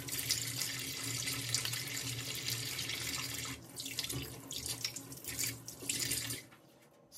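Hands being washed under a running tap after lathering with foam soap from an automatic dispenser, a steady close splash of water that breaks up into uneven splashing before stopping near the end.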